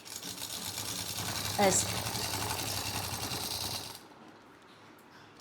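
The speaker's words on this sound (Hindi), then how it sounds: "ऐसे लगाते हैं इसकी सिलाई, लब की सिलाई इसके बिल्कुल किनारे पे लगाते हैं ये सिलाई" A sewing machine stitches right along the edge of cotton fabric, humming in a steady fast rattle for about four seconds before stopping, with a brief spoken word over it.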